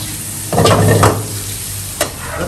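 Chopped meat sizzles and fries in a pan with steady crackling, punctuated by a few loud stirring scrapes, close and distinct with no talking.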